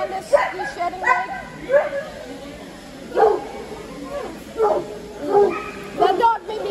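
A dog barks and yips in several short bursts amid a grooming session on a Schnauzer, the barks spaced irregularly at moderate distance while a person talks throughout.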